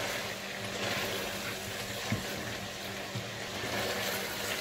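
Chicken balti gosht simmers in its pan after a cup of water is added, giving a steady, soft bubbling hiss that holds evenly throughout, with a couple of faint pops and no voices.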